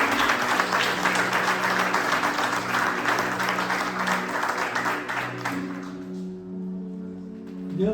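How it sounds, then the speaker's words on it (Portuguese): A church congregation applauds during a worship service, a dense and loud round of clapping over a sustained musical backdrop, dying away near the end as the music carries on alone. "Você pode aplaudir ao Senhor?"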